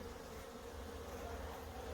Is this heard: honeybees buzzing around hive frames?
yes